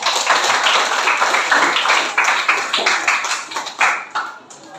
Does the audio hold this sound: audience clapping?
yes